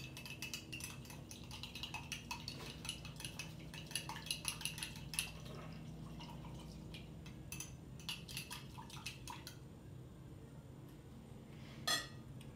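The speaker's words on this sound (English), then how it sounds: "It takes a little bit of mixing." A metal spoon clinks and scrapes steadily against a container while stirring honey into mead, a faint, continuous run of small close taps and rattles with no voices.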